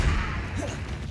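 A Confringo blasting spell strikes in Hogwarts Legacy with a heavy, close thud and crash at the start, then a rumbling whoosh tails off over a dense game soundscape.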